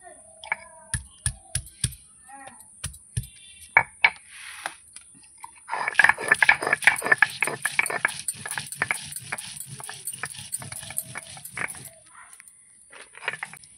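Cumin and ginger ground together by hand for a cabbage and katla fish-head dish: scattered sharp knocks at first, then a steady run of rhythmic scraping, grinding strokes for several seconds before easing off.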